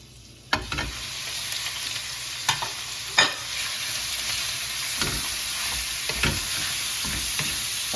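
Steak searing in a hot pan for a beef stir fry, a loud continuous sizzle punctuated by several sharp knocks and scrapes as the meat is moved around, close up with no talking.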